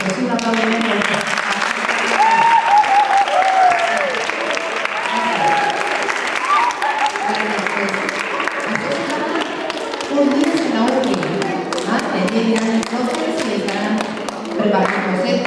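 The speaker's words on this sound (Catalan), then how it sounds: "És un aplaudiment molt fort." Very loud applause from a theatre audience at an amateur drama showcase, a thick roar of clapping sustained for the full stretch while voices and cheers rise through it.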